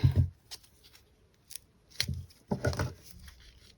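Scissors snipping through ribbon for a resin wineglass lampshade craft, a few short crisp cuts spaced over several seconds, close and quiet with no talking.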